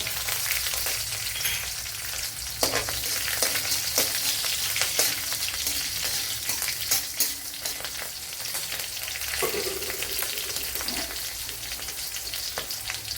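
Curry leaves, three garlic cloves and chopped green chilli frying in hot oil for a carrot and spinach thoran: a loud, continuous crackling sizzle with occasional spoon taps and stirring, close up and without speech.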